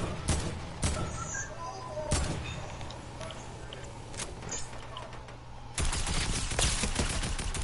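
Video game gunfire in a shooter with building and pump shotguns, sharp loud bursts of shots in quick clusters, with some quieter stretches in between and a heavy volley near the end.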